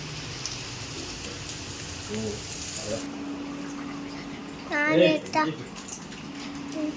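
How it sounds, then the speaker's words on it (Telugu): Steady rain hisses and patters throughout, with a few brief voices speaking over the downpour. "అవును చూడండి ఎట్లా వస్తుంది పెద్ద వాన వచ్చింది"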